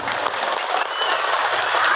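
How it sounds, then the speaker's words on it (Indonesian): An audience at a Maulid Nabi religious gathering claps enthusiastically for the event organizers, a steady dense burst of applause filling the space without any speech. "Berikan tepuk tangan yang semangat untuk para panitia di Carang Datang."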